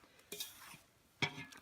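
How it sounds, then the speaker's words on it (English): Chicken mash mixed with warm water is stirred in a bowl, giving two brief scraping strokes that are soft and close, with quiet gaps between them. "Stir it around."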